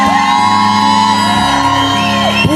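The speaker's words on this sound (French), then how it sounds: "La Bible dit poussez, vous tous, poussez des cris." Church congregation shouting acclamations together during a French-language service, a loud sustained roar of many voices with music or organ tones holding underneath, continuous throughout.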